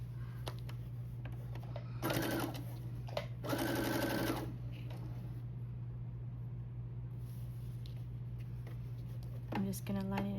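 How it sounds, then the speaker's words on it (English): A sewing machine stitches quilt blanket pieces in two short bursts over a steady low hum, with a faint quick run near the end. "I'm gonna sew it together."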